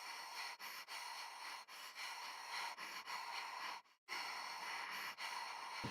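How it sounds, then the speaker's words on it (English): A breathing-pattern preset from the Strezov String Contours sample library plays as a steady, airy stream of breaths, broken by short dips and a near-silent gap before resuming, with no speech. "We have breathing patterns"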